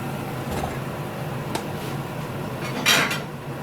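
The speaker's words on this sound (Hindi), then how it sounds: "मैं आपके सामने इसको सर्विंग प्लेट में निकाल देता हूँ" Dry fruit halwa is scooped from a hot pan onto a serving plate, with a few scattered metallic scrapes and clinks against the pan, one louder scrape near the end, over faint background hiss.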